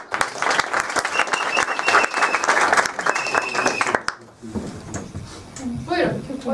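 Spectators clap for the audience and actors before a live sound-effects stage performance, dense applause for about four seconds that then stops abruptly, followed by quieter stage noises and a voice.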